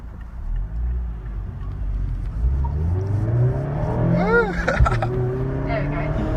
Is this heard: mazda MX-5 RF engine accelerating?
yes